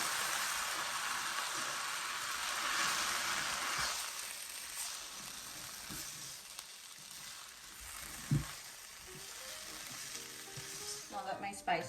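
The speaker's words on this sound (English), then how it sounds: "give it a good mix." Spices including freshly grated nutmeg and vanilla extract are stirred together in a bowl for a Guyanese red cake. The scraping, swishing stir runs steadily, fading midway before a few sharper clinks and knocks near the end.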